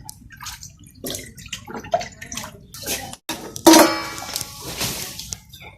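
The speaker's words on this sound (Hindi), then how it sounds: "अभी हम इसको साफ़ पानी में धोएंगे एक दफ़ा" Sweet potatoes being washed in clean water in a basin: close sloshing, splashing and dripping in irregular bursts, with one louder splash near the middle, and faint background voices.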